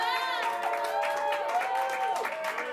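A crowd cheers and claps during a vote at a university sports show, the noise steady and sustained with voices rising through it.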